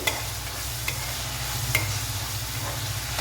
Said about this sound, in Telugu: ఇప్పుడు ఇది బ్రౌన్ కలర్ వచ్చేంత వరకు ఫ్రై చేసుకోవాలి ఆనియన్స్